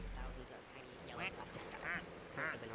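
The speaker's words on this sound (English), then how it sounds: "And it quacks like normal." A plastic duck in the video game Placid Plastic Duck Simulator gives three short, clear quacks spaced about half a second apart, while a person talks alongside.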